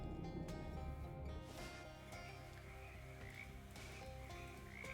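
Frogs croak in the video game Shadows over Loathing, a steady dense chorus of croaks over layered game music and ambience, loud and continuous throughout.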